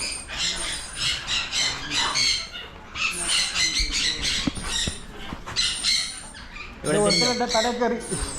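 Birds squawking loudly and repeatedly at close range at a bird-feeding spot near Kambam, with harsh overlapping calls and people talking throughout.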